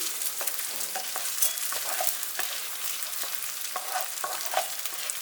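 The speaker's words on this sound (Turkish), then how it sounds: "Pirinçleri yağda şöyle bir çeviriyorum." Washed rice stirred and sautéed in butter and olive oil, a steady crackling sizzle with repeated scraping strokes of a spoon through the grains in the pan, close and continuous.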